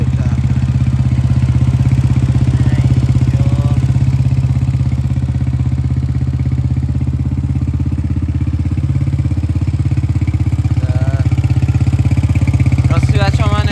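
A Honda 125 motorcycle engine runs at a steady idle close by, a loud continuous low throb with fine rapid pulsing and slight clatter, with a few faint voices in the background.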